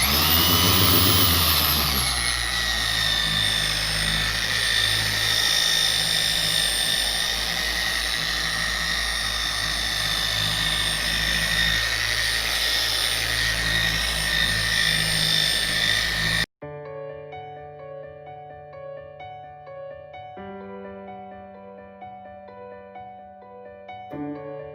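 A BAUER polisher from Harbor Freight runs with a loud, steady motor whine and roar close by, sustained for about sixteen seconds before cutting off abruptly into background music.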